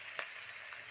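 Ginger-garlic spice paste frying in a pan for a pakudi curry, a soft, steady sizzle with a few faint crackles, close and quiet, without talk.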